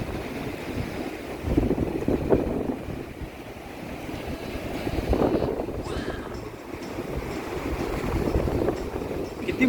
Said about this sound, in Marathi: मोठमोठ्या लाटा येऊन पूर्ण जोरात आपटतात ना